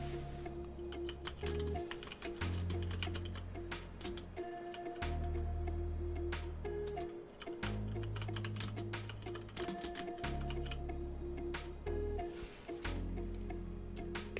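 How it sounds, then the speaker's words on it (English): Fingers type steadily on a computer keyboard, quick irregular key clicks running throughout over a constant low electrical hum, with no voices. "I'll start typing here."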